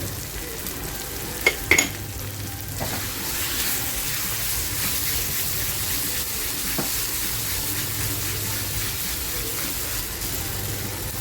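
Rawas fish masala cooking in oil over a low flame, a steady, even sizzle that runs throughout, with a couple of brief clinks near the start.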